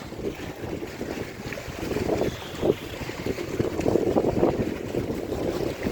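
Wind buffets the microphone in a constant low roar on a cliff top, with gusts swelling and fading and a faint wash of water underneath.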